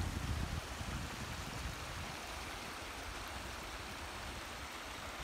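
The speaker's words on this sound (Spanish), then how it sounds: "Y el río debajo." A river flows below an abandoned shepherd village in Las Hurdes, a steady broadband rush of running water, louder for the first half second and then constant and fairly distant, with no voices.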